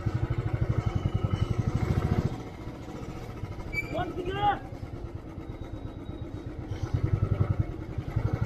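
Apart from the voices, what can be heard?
motorcycle engine idling on a road trip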